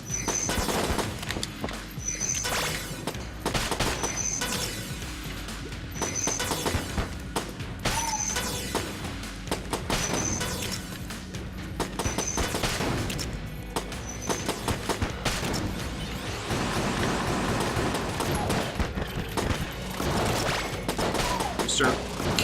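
Repeated gunshots in the twin-stick roguelike shooter Enter the Gungeon, a dense steady barrage of rapid shots and impacts layered over game music with a regular chiming beat, loud and continuous throughout.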